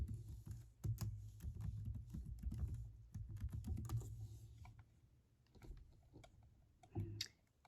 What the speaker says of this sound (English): You type in Merry Christmas.